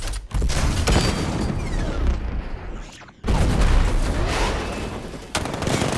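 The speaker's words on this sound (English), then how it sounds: "60mm cannon operational." Tank cannon fire from the 60mm gun in Batman: Arkham Knight, a dense barrage of booming blasts and explosions with a brief gap, loud and close.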